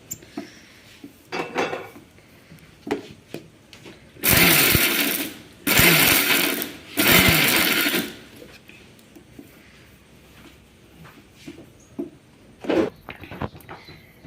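Mixer grinder run in short reverse pulses to coarsely crush spices for rasam, three loud bursts of whirring and rattling about a second each, with quieter kitchen clatter before and after.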